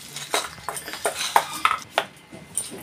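Mashed sweet potato is mixed with mustard oil and salt in a metal bowl, with a spoon scraping and clinking against the sides in an irregular rhythm of close, moderately loud strokes.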